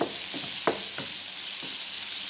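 Tomatoes and onions sautéing in a pan for a stuffed squid dish, giving a loud, steady sizzle with a few soft stirring knocks from a spoon.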